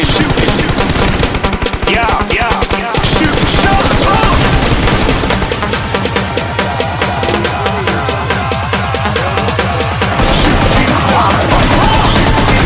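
Rapid automatic gunfire in a mobile shooting video game, loud and near-continuous bursts with dense sharp reports, brief gaps and heavy low booms, filling the whole stretch.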